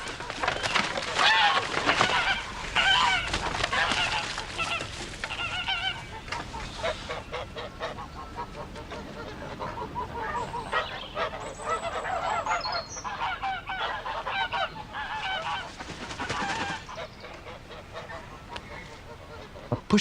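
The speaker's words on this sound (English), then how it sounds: "I looked at the geese, which was hissing and huddling in the corner of the yard." A flock of geese, including a big grey-headed bird, honks and hisses as the birds huddle in the corner of a yard, with loud, busy, overlapping calls throughout.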